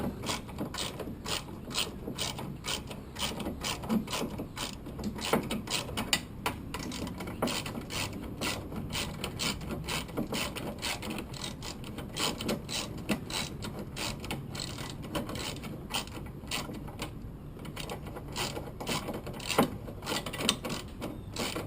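A hand ratchet backs out a bracket bolt on a 2005 Honda VTX 1300 motorcycle, giving a long run of quick, even clicking strokes, close but quiet, with no talk.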